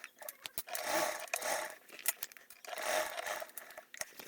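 A sewing machine bastes along the edges of an insulated tote, giving short, uneven whirring runs with pauses and crinkly fabric handling in between, close and fairly quiet.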